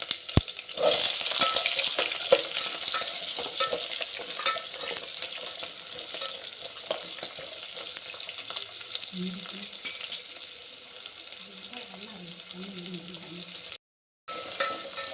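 Small onions hit hot oil with garlic and sizzle steadily, a dense close frying hiss running throughout with occasional stirring clinks, broken by a brief gap near the end.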